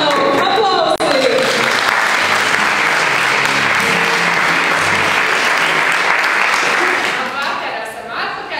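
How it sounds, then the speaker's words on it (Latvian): Studio audience at a televised school evening show breaks into sustained, loud applause right after the hosts are introduced, a dense wash of clapping that holds steady before tapering off near the end. "Aplausi!"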